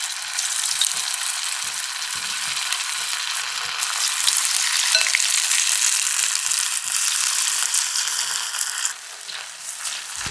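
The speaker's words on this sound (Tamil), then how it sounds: "ஒன்றா விட்டு பொரிச்சு எடுத்துக்கலாங்க." Potato kababs deep frying in hot oil in a kadai give a dense, steady crackling sizzle, close and continuous with small pops throughout, then dropping slightly in level near the end.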